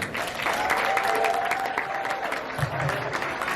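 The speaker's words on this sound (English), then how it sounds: "So let's clap it up for Mr. Del Toro." An audience at an elementary school fifth grade graduation breaks into steady, full applause for a guest speaker, dense clapping from a crowd that stays loud throughout.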